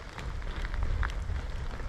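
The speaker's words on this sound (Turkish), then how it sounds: "Abi yağmur iyice hızlanmaya başladı." Heavier rain pours on a campsite, a busy low rumble of drops with scattered brighter taps on close surfaces, steady and fairly loud throughout.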